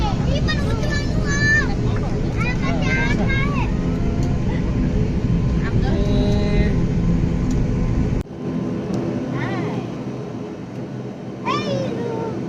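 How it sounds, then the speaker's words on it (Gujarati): A passenger airplane from Diu to Surat sits on the runway before takeoff, its steady engine drone filling the cabin under the constant chatter of passengers and other voices. "અહીંયા ટ્રેક ઉપર જાય છે હમણાં ટેકઓફ કરશે"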